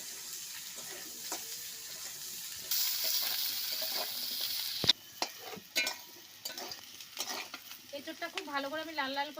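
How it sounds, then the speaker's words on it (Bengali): Jackfruit pieces fry in hot oil in a pan, giving a steady sizzle broken by stirring scrapes and clatter, with a run of water near the end. "এবার একইভাবে এঁচোড়টা লাল লাল করে ভেজে নেব।"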